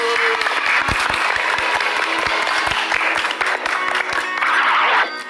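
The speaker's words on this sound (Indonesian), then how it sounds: "Tepuk tangan dulu." Applause in a children's lesson on fractions, loud close clapping with sharp individual hand strikes over a brighter layer of recorded crowd clapping, continuing for several seconds.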